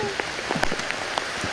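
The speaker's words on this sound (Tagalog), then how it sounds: "Isang basa na kami guys sa ulan." Rain falling outdoors during a fishing trip, a steady dense patter with scattered louder drops striking a surface nearby, no speech over it.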